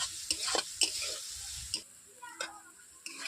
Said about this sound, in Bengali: দেখতেই পাচ্ছেন মশলা থেকে তেল ছিটাচ্ছে, তাই মশলা কষানো হয়েই গেছে।